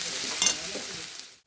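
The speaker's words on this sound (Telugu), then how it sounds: "నేను పెద్ద మంట పెట్టి ఇక్కడే ఉండి ఫ్రై చేస్తున్నా" Vegetables for fried rice, including potato and carrot, sizzle and crackle in a pan over a high flame, a steady loud hiss with a brief stir-scrape burst before it cuts off.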